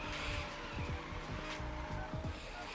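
A slow drift car in a racing video game holds a long, steady tire squeal with engine drone underneath, loud and continuous throughout.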